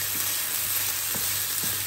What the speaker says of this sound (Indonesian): kita masukkan beras yang sudah dicuci dan ditiriskan tadi